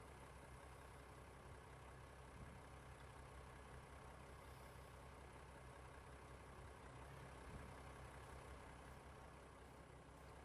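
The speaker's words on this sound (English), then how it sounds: "Get the tractor started." A tractor engine idles steadily while warming up in Farming Simulator 22, a constant low rumble running unbroken throughout with no talking.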